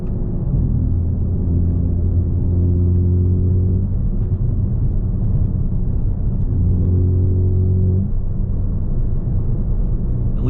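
Deep, continuous engine and exhaust rumble from a 750 hp BMW G82 M4 Competition on stock turbos during a night drive, rising in pitch twice under acceleration over steady road noise, with no talking.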